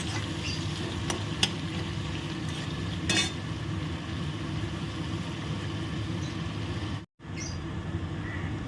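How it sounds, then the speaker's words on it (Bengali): Chopped onion, diced potato and a green chili fry in a pan of oil, giving a steady close sizzle with a few faint stirring clicks and one brief dropout near the end. "এই পেঁয়াজ এগুলো ভাজার সঙ্গে সঙ্গে এর মধ্যে দিয়ে দিচ্ছি"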